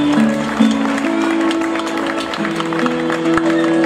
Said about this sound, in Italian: L'applauso per Carlo Crisponi